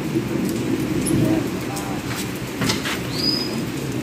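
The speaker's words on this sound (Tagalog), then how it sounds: "May mga sumisipol na," Small birds whistle in an aviary at a pet shop: one brief high chirp, then a short rising whistle near the end, faint against a steady, busy background murmur.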